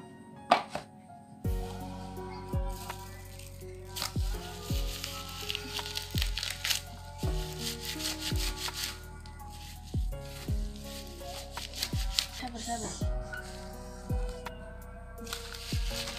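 Cassava leaves being hand-kneaded with a little salt for a Maluku vegetable dish, producing close, wet squishing and crushing bursts in a loose repeating rhythm, with no talking.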